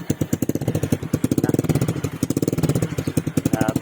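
Motorcycle engine fitted with a Taikom tube-type power pipe and no silencer, giving loud, close, rapid exhaust pulses in a steady throbbing rhythm that runs for the whole stretch.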